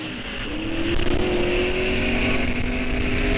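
Drag race car, Rohrbacher's entry in an eighth-mile heads-up event, launching off the starting line with a loud, sustained engine roar that rises steadily in pitch as it accelerates away, continuous throughout.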